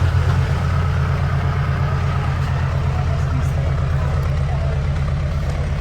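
A narrowboat's diesel engine is revved with a quick nudge of throttle, giving a steady, loud low rumble close by that holds throughout without a break.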